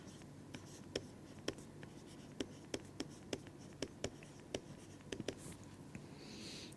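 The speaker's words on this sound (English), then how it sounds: "So, let us write this definition." Chalk or pen writing on a board or paper during a linear algebra lecture, a quiet run of sharp, irregular taps and short strokes over a low room hum, with no talking.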